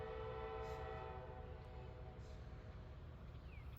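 A train rolls through downtown Greenville on a slow order at about 15 to 20 miles per hour, its horn sounding in long sustained blasts over a low, steady rumble of the passing cars.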